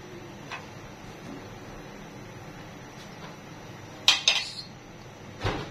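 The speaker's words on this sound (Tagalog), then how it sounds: "Then ilagay natin ang ating pork ribs." Pork spare ribs drop into a metal cooking pot for nilaga soup, giving a few sharp clattering knocks near the end, with faint background hiss and no talking.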